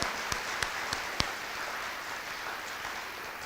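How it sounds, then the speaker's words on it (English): Scattered applause from an audience at an elementary school dedication and ribbon cutting, a few sharp claps standing out early over a soft, distant wash of clapping that fades into background noise. "Let's give them one more round of applause"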